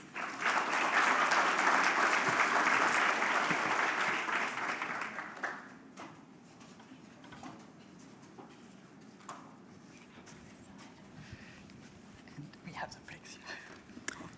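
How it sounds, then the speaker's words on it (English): Audience applause at the AI+Education Summit 2026 Create+AI Challenge ceremony, loud dense clapping for about five seconds that tapers off, followed by quiet room noise with scattered claps and faint movement. "Round of applause, please."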